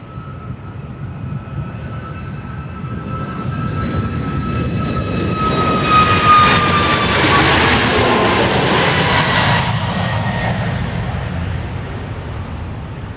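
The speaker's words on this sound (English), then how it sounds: "That was flight 1488, headed off to Nashville, MAX 8" A Boeing 737 MAX 8 roars steadily through its takeoff run at Dallas Love Field, loud and close, the engine noise swelling midway with a high whine on top before slowly easing.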